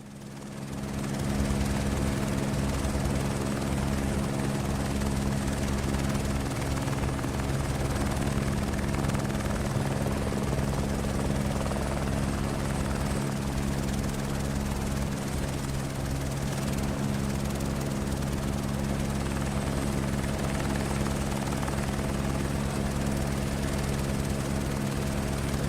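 An aircraft engine roars steadily and loud during takeoff in Microsoft Flight Simulator, a constant droning hum that holds on its own throughout.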